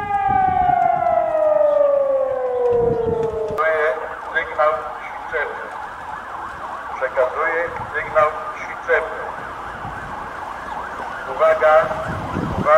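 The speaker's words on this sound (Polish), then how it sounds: "Modulowany dźwięk syreny trwał 3 minuty." A loud modulated civil defense siren wails during an evacuation exercise, its pitch sweeping up and down for a few seconds before cutting off, leaving background noise and people talking.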